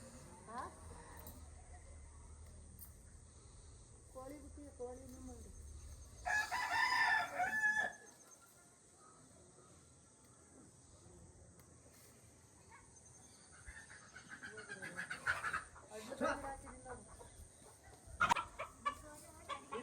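Chickens cluck and a rooster crows in a village yard, with a loud crowing burst in the middle and scattered clucks and calls before and after over a low background hum.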